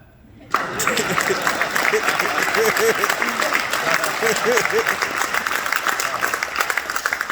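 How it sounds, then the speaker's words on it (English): A crowd at a soldiers' ceremony breaks into loud applause that starts abruptly and holds steady, with some cheering voices mixed into the clapping. "You can clap"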